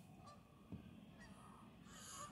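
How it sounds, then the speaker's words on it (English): Canada geese honk faintly in the distance, a few scattered calls over a soft background hiss, on the Oregon coast at Yachats. "About 20 some Canadian geese"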